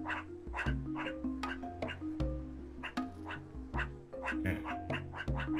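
An animal in the survival game Animalia Survival gives a rapid series of short, quacking bark-like calls, steady and repetitive over a low droning game background, fairly faint overall.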